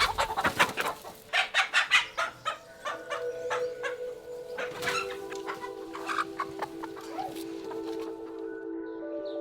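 Chickens on an organic farm in Portugal cluck in quick, busy bursts, with a rooster-like call among them; the flock sounds close and fairly loud, settling into scattered softer clucks toward the end.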